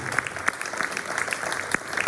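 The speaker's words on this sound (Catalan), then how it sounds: "Un fort aplaudiment per la nostra dona de la cultura" Applause at a final municipal election rally in Sant Climent, greeting a woman introduced as the town's figure of culture. Steady, moderately loud clapping with a few sharper claps fills the whole short stretch.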